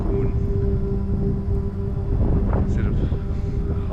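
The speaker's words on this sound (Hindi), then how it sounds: "सिर्फ हवा चल रही है, उसकी आवाज़ है, और the river flowing" Wind blows steadily across open wilderness at Kalam with a river flowing nearby, a continuous broadband rush with a low steady hum and some gusty, buffeting noise against the microphone.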